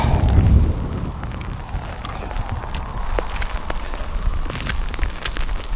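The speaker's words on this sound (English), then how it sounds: "There's the rain coming on. Heavy rain." Heavy rain coming on along the shore of the Foyle at low tide, a steady broadband hiss of drops with gusty rumble beneath, continuous and fairly loud throughout.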